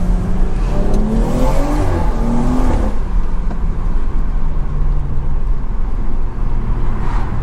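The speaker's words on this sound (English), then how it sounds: "let me know if y'all are hearing the turbo, because I'm hearing the turbo spool like crazy" A BMW 340i with its stock-turbo B58 engine under acceleration, heard from inside the car: a loud, steady engine drone with rising pitch sweeps in the first few seconds, then a settled whirring cruise, with no talk.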